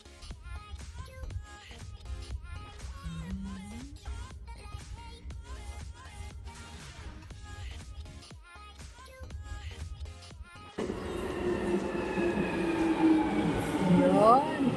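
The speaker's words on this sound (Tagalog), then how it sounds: "The train now approaching is to Stanmore. Please stand back from the platform edge." London Underground train approaching the platform, preceded by a platform announcement voice; the rumble and squealing wheels rise loudly near the end as the train pulls in.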